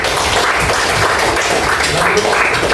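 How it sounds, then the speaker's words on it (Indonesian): A classroom audience claps for a group presentation, a dense, steady burst of applause from many hands filling the room at close range, with no talking over it. "berikan aplaus"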